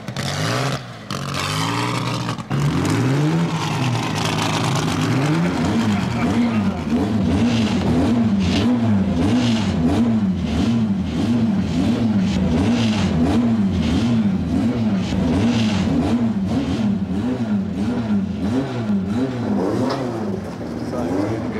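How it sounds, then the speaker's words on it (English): A racing car's engine warming up in a motorsport paddock, revved repeatedly in a steady rising-and-falling pattern for about fifteen seconds, loud and close. "They're warming up my car."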